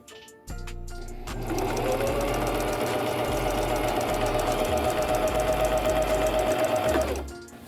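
Sewing machine running a continuous zigzag stitch on a sock, a close steady whirring hum with rhythmic needle clatter that starts abruptly and winds down after several seconds.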